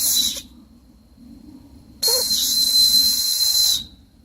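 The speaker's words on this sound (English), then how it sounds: "give that a sample of how loud that whistle is" Two shrill, piercing blasts from a survival whistle rated at 120 decibels, a short one then a longer sustained one lasting nearly two seconds, loud and close with a faint breathy hiss.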